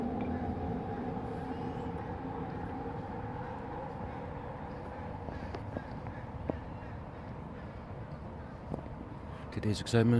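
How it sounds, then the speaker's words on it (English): A train rumbles past, a continuous low roar that slowly fades, with faint clanks near the end. "besides the train"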